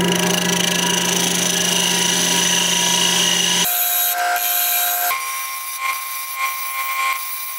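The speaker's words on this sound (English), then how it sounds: "I'm just going to make a little parting cut here just so I know where the bottom is." A parting tool cuts into wood spinning on a lathe at about 1600 rpm while turning a small mushroom-shaped Christmas ornament. A loud, steady scraping whine with a humming motor tone runs for several seconds, then abruptly drops to a quieter, thinner hum.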